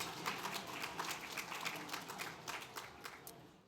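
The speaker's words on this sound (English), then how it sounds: "Round of applause to yourself for making that happen in that short amount of time" Banquet audience at an awards dinner clapping, a faint, dense round of scattered handclaps from a distant room that carries on steadily without voices.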